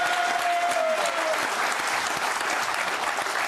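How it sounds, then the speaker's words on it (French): A studio crowd breaks into dense, even applause at a French talk show, loud and close, after a guest's rant about the cost of living, with a faint voice briefly over the start. "On peut l'applaudir."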